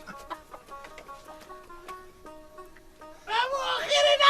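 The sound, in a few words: chicken clucking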